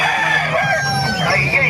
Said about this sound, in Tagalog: Marami po manok dito mga kamaster.